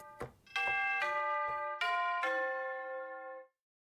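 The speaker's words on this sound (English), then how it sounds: "Ooh, tubular bell." Tubular bell notes ring out in video game music from Clair Obscur, a few struck tones in sequence, each with a bright metallic attack and long sustained shimmer that fades at the end.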